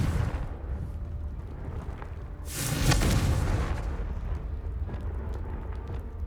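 A blasting spell from the Hogwarts Legacy video game detonates with a loud, broad burst about halfway through, its rumble swelling and lingering over steady low game ambience.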